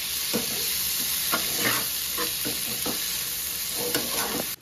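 Spices with ginger-garlic paste and chilli powder sautéed alongside onion and eggplant in a pan for a Bhola fish curry, giving a steady close sizzle broken by repeated scraping stirs of a spatula.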